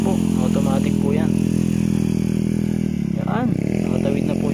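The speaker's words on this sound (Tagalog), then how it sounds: "At may motor din pala dito guys na tatawid" An automatic motorcycle crossing in a rural barangay in Rizal, Philippines, its steady engine drone running loud and close throughout while a voice talks over it.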